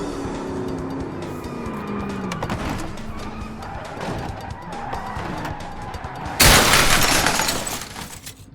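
A seven-litre V8 car spins donuts in BeamNG.drive, its engine droning and revving steadily, then a loud, sudden crash with breaking glass bursts in near the end and fades out.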